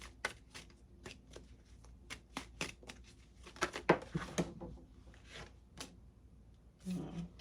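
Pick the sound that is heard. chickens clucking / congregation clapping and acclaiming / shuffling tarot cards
shuffling tarot cards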